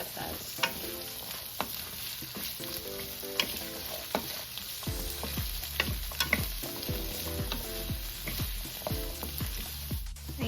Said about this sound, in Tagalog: iprito ko muna din itong carrots and patatas.